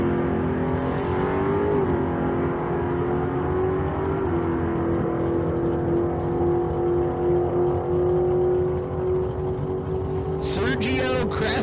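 Drag race cars at the Street Car Super Nationals in Las Vegas, including a 1965 Mustang, with a steady, loud engine drone throughout and a sharp, close burst of revving near the end.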